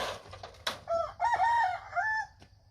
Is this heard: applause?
no